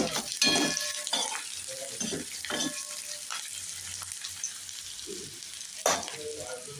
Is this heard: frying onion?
yes